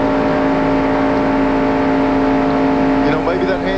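NASCAR stock cars roar past at the 1993 Diehard 500, a steady loud engine drone with a pitch shift near the end as the cars go by, under race commentary.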